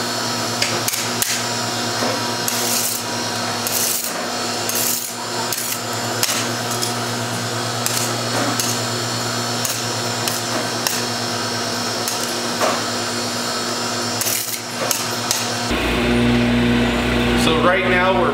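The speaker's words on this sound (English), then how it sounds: "Right now we're pulling it on our pulling machine. This is an antique Hildreth pulling machine." An antique Hildreth candy pulling machine stretches sour cherry candy with a steady, rhythmic mechanical clanking and thumping, while a voice talks over it.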